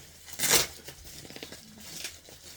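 A crinkly Mylar bag is torn open with one loud, sharp rip, followed by softer scattered crackling and a second brief crinkle, all close up with no talking.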